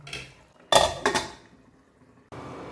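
Tinda and onion curry being mixed in a cooking pot, with two short, loud bursts of spoon and metal clatter close up, separated by quieter stretches, then a faint continuing rustle.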